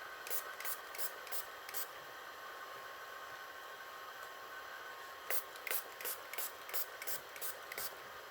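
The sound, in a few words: light spray being applied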